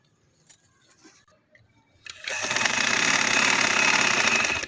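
A sewing machine stitches the collar band of a kurti in thick fabric, starting abruptly after a quiet stretch with a few faint handling noises and then running loud and steady with a fast, even mechanical whir.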